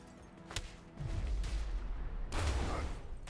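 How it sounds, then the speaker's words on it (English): Gunfire from the video game A Way Out: a sharp shot early, then rumbling bursts of shots around one and two and a half seconds, fairly loud against a low background. "I will shoot him!"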